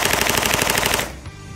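A PTR Industries rifle fires a loud, rapid full-auto burst outdoors, about a dozen evenly spaced shots that stop abruptly, then a brief echo and wind noise.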